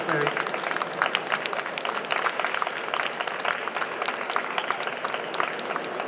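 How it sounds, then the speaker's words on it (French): Audience applause at a French poetry evening, a steady wash of many hands clapping throughout, fairly close and sustained, with a voice speaking over the start. "On peut vous applaudir"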